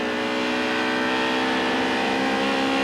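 A rough-sounding touring car engine at full throttle during a 1990 British Touring Car Championship race at Silverstone, a loud continuous harmonic roar held steady as it passes close by.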